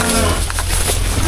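Cattle low at a cow trading yard in Phu Yen, Vietnam, with deep moos mixed into a dense, noisy outdoor din of livestock and activity.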